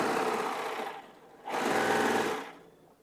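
Serger stitching through sweatshirt fabric, a rapid mechanical buzzing run heard close up in two bursts with a short pause between, no voices.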